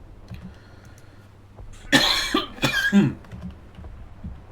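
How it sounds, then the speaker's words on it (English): Two or three close, rough coughs in a row after a quiet moment, with a faint background hum. "Dry throat and a cough."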